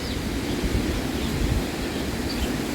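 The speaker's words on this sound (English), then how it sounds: "Hopefully you can hear me over the wind." Steady wind buffets outdoors in a yard, a loud, broad rushing roar that stays constant throughout, with no voices.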